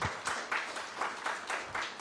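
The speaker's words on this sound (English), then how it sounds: "Please, let's clap for the minister." Audience clapping at a formal event on social protection and public finance to welcome a minister, with rhythmic bursts of claps repeating about four times a second, close and moderately loud.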